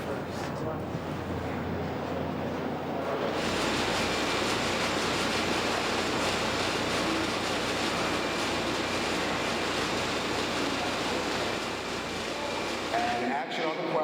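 A subway train arriving at a platform in a movie scene from Die Hard with a Vengeance: a broad roaring rumble that swells in and holds steady for over ten seconds, loud and continuous, with talk underneath.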